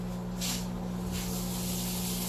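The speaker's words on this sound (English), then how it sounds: "Oh, there's the sizzle." Sausage sizzles in a pan on a stovetop while making mac and cheese, a steady soft hiss with a low hum underneath and a couple of brief louder spitting swells.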